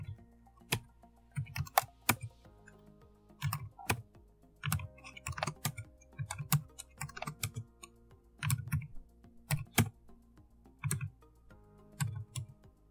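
Code values are typed on a computer keyboard in a C# Windows Forms tutorial, giving quiet, close, irregular clicks in short bursts with pauses, and no talking.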